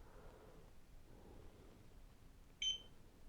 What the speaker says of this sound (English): We heard the beep and press.